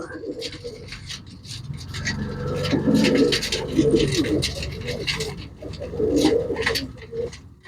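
Pigeons coo in soft, repeated throaty bursts close by, with someone talking over them throughout.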